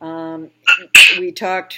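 A single sharp sneeze bursts out between stretches of a person talking, loud and close.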